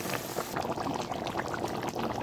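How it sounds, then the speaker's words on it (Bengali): Water poured steadily into a pan of simmering chicken kasha gravy, a continuous close splashing rush with faint bubbling underneath and no talk. "এখন দিয়ে দেবো একটু গ্রেভির লেগে জল"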